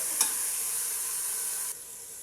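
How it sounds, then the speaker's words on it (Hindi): Rice with green chilies being stirred in a hot pot, a steady close sizzle and hiss with one brief scrape, fading down near the end, no talk. "उसके बाद मैं इसकी मिक्सिंग करूँगी।"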